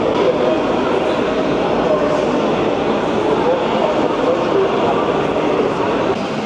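Loud, steady rumble of a busy train station in Porto, Portugal, opened in 1916, with trains, crowd murmur and voices blending into a constant wash of noise.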